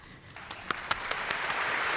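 Applause breaks out for the winner of best TikTok influencer at the Inflow Awards, starting with a few sharp, distinct claps and quickly swelling into fuller, steady clapping from the audience.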